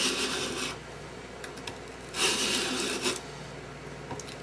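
A broad steel chisel rubbed back and forth on a sharpening stone, producing close, gritty rasping strokes that swell and fade in uneven bursts, with no talk.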